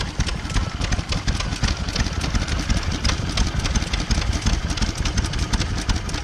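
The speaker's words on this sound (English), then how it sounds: "Look how that exhaust is pounding into the grass underneath." A stationary engine at a Henham steam rally runs steadily, its exhaust pounding down into the grass beneath in a fast, even rhythm of close, loud beats that continue throughout.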